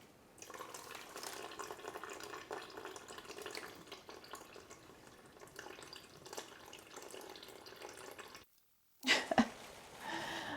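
Tap water runs steadily into a pot while repotting Alocasia Frydek plants, a continuous broadband splashing rush that stops abruptly near the end, followed by a few sharp drips and clunks.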